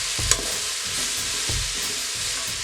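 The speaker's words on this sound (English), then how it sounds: "Get that in there, nice and sauteed." Onions saute in an Instant Pot for Jamaican brown stew fish, with a steady loud sizzle and a spoon scraping through them about every second.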